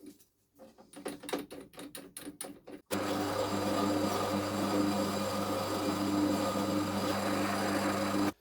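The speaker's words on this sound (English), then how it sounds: "Another chamfering tool for the smaller holes" A small power drill fitted with a chamfering tool whirs steadily and close on small holes in a knife handle, preceded by a few sharp rhythmic taps and short bursts of grinding as the bit engages.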